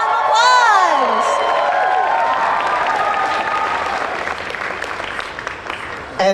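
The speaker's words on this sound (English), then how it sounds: "So give them a round of applause!" Audience at a cosplay awards ceremony at a convention breaks into loud applause with whoops and high cheering voices, the shouts rising over steady clapping before the noise thins toward the end.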